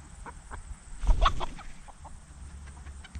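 Speckled-egg-laying chickens clucking around a backyard farm, a steady scatter of soft clucks with one louder burst of flock noise near the middle, no talking.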